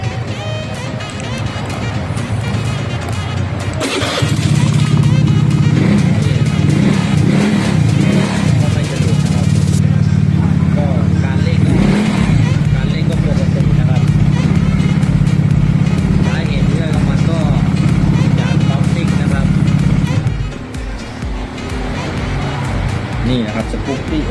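A Honda Zoomer X scooter with a stuttering fault idles, then revs to a steady higher drone for about fifteen seconds before dropping back, heard close with someone talking over it.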